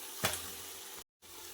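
Stuffed baby eggplants drop into hot oil in a pan for a curry and break into a sharp sizzle. The frying hiss swells and then holds steady, with no voices over it.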